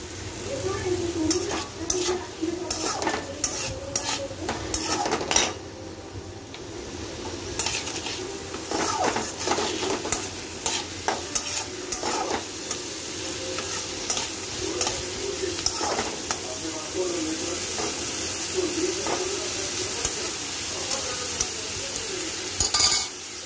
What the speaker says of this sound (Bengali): এই পেঁয়াজের সাথে আমি এই আলুটা ফ্রাই করব